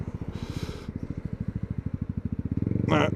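A Yamaha MT125 motorcycle engine thrums steadily while riding, its rapid regular pulses close and loud throughout, briefly rising near the end.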